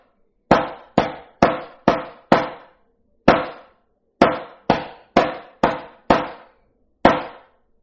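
Drumsticks strike sharply in an eighth- and quarter-note practice exercise, a dozen crisp close hits, with quick groups of paired strokes separated by single spaced beats and gaps.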